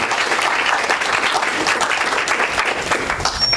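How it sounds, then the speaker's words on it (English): An audience gives a warm, sustained round of applause for a guest speaker at an academic talk, dense and steady from start to finish with no pauses. "So let's give him a warm applause."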